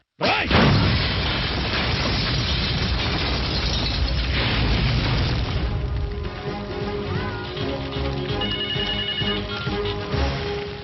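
Car bomb blast in a Telugu movie scene: a sudden, very loud explosion with a sustained heavy rumble that gradually gives way to ringing, tonal music-like sounds in the final seconds.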